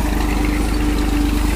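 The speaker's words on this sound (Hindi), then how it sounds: "चलो ताऊ जी ट्रैक्टर स्टार्ट करो, कार्य काम करो अपना" A Massey tractor engine in a sugarcane field runs steadily, a loud, close, continuous throb with no pauses.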